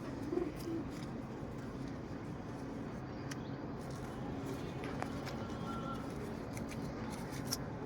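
Pigeons cooing softly in a low, repeated murmur over a constant hiss of background noise, with a few sharp clicks scattered throughout.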